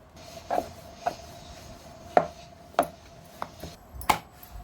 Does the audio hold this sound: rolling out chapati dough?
yes